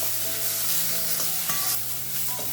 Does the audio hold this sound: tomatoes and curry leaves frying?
yes